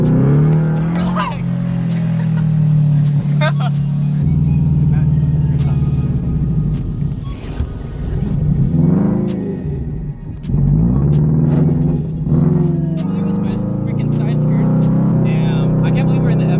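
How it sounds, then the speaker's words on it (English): A Scion FR-S sports car driving with a blow-off valve fitted. A loud engine rumble revs up and down, with hissing whooshes as the throttle lifts, and voices talk over it. "I miss the sounds. The blow-off valve, it sounds so good."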